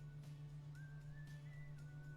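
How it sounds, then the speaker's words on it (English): A character in The Sims video game whistles a faint, wavering tune lasting about a second over a steady low hum. "it's just whistling"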